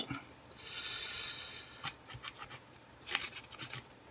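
Stiff, rusted wheels on a Corgi Whizzwheels GP Beach Buggy toy car grind and rasp on grimy axles, starting as a faint scraping and turning into short, quiet bursts of gritty rubbing.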